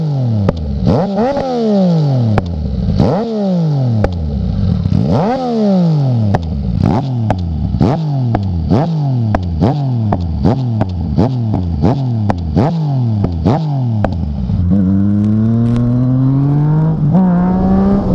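Yamaha MT-09 motorcycle revving hard toward about 8000 rpm, loud and close, with a string of rapid rising engine sweeps and quick gear changes, then a steadier high-pitched pull at the end.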